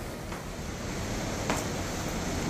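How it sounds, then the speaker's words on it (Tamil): Steady, dense hiss of rain falling, continuous and even throughout with no voices, like a heavy shower heard from nearby. "மழை பெய்யுற சத்தம் கேக்குது"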